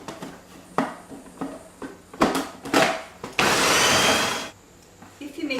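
A food processor whirs steadily for about a second as pumpkin, cashews and vegetable oil are blended into a smooth dip, set among brief clattering kitchen sounds and a voice speaking before and after.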